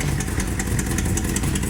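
A 1961 Cadillac Ecto-1 with its V8 engine running as it is driven slowly out of a garage, a steady low rumble with light clatter, close and continuous.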